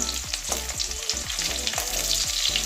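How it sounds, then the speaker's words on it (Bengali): Fish roe fries in a pan, turned over as it browns, giving a loud continuous sizzle with rhythmic stirring scrapes, no voices. "এবারে উল্টে দিচ্ছি আরও এরকম একদম লাল লাল করে ভাজা হয়ে গেছে"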